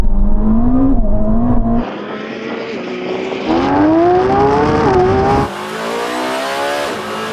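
A Lamborghini Revuelto and a Ferrari SF90 launch in a drag race, engines screaming loudly and rising in pitch through quick gear changes, the roar shifting as the cars pull away.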